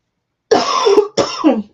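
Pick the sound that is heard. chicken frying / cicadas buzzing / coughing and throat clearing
coughing and throat clearing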